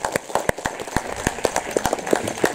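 A church congregation at a Christmas carol service claps in a loose, uneven rhythm, the individual hand claps close and distinct rather than a dense roar, with brief speech faintly underneath.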